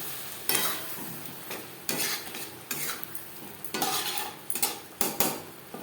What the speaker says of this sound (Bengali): মশলার সাথে আলু আরও 3-4 মিনিট নাড়াচাড়া করে নেব